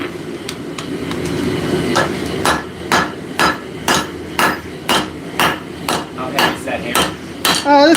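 A small three-pound forging hammer strikes metal in a workshop, giving a steady run of sharp, ringing blows about twice a second that grow louder toward the end.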